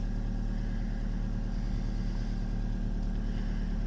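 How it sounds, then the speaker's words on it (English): A 2012 Fiat 500 engine idles steadily, its lifters quietening as it warms, a continuous low rumble with faint ticking, close and even throughout. "it's running a little better, the more it runs, the lifters are quietening up"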